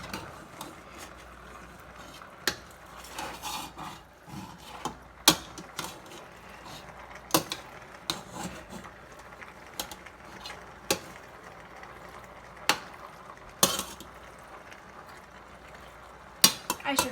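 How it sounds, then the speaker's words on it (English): Utensil scraping and clinking against a bowl while food is mixed, a series of irregular sharp taps and scrapes spread across the stretch, fairly quiet and close. "Just need to mix it a little more."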